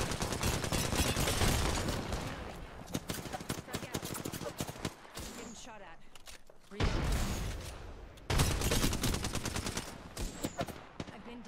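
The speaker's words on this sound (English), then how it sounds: "Shots fired." Gunfire rattles in Apex Legends, close, loud bursts of rapid automatic shots that break off in a brief lull and then resume, with a voice speaking faintly in the gap.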